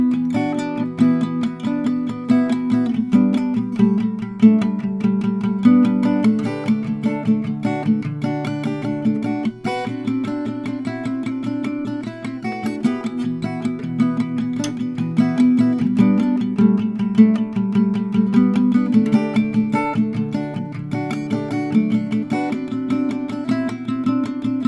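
Chords of a song played on guitar, a continuous, close, fairly loud strummed pattern with a steady rhythm and no voice.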